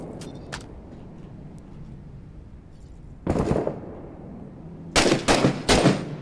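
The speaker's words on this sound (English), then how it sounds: "Those gunshots, those AK sounds, sound like they're 200 meters away." AK rifle gunfire in the shooter game Six Days in Fallujah, heard as a short burst midway and then three quick bursts near the end, muffled and distant as if behind walls, with a low background rumble.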